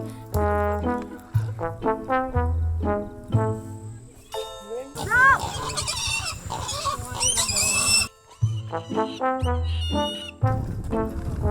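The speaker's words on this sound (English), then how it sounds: "So we got our new pig here." A pig in a Lo Lo mountain village grunts and oinks in a run of short, close, repeated calls, with a burst of higher squeals in the middle, bright chiming tones, and someone talking nearby.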